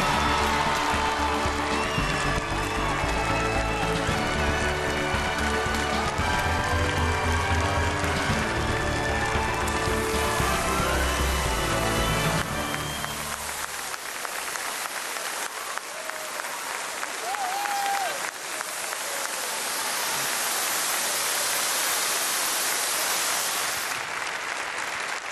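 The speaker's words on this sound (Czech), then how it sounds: "Obrovský potlesk pro Alenu Smolíkovou a Fenku Casey." A large audience at a televised talent show claps loudly and continuously for the contestants, a woman and her dog. The opening half is thick with music, which then drops away, leaving a roaring sustained applause.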